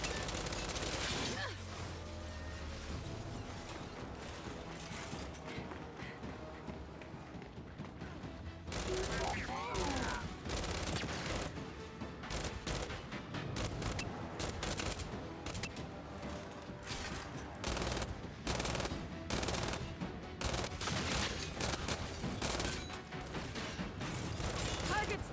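Gunfire in the Gears 5 video game, with dense, loud bursts of rapid shots running almost continuously over a busy bed of game effects and rumble.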